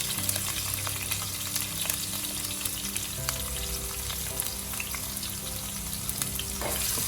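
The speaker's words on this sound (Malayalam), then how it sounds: "കടുക് പൊട്ടിയതിന് ശേഷം കരിവേപ്പിലയും ചതച്ച് വെച്ചിരിക്കുന്ന ജിഞ്ചർ ഗാർലിക് പേസ്റ്റ് ഇട്ട്" Curry leaves and crushed ginger-garlic paste sizzle steadily in hot oil after mustard seeds have popped, a constant close hiss with light crackles and occasional stirring scrapes.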